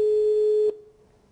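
A telephone call tone during a live prize-draw broadcast: one steady electronic tone lasting about two-thirds of a second, then cut off abruptly, leaving a faint low hum.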